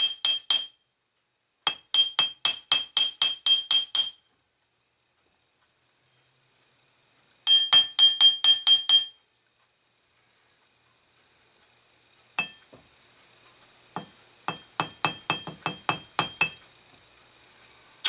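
Earring wire for dangle feather earrings is flattened with a hammer on a hard surface: quick bursts of sharp metallic taps in runs of six to ten, separated by silent pauses, close and clear.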